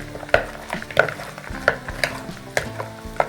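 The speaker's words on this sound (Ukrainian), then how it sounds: "Починаємо вимішувати наші реберка маринувати." Pork ribs being stirred and turned in marinade, a wet, sticky squelching with regular scraping knocks against the bowl about every half second, close and steady.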